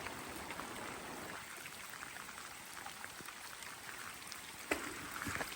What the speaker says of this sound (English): Love that sound of water.